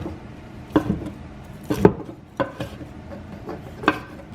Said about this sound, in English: Slice your steak all the way down.